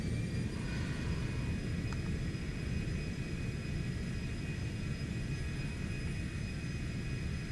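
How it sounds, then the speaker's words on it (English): Jet engines of a Citation X roar in reverse thrust just after touchdown, a loud, steady, broadband rumble heard from inside the aircraft, with a faint high whine above it. "Reverse thrusters."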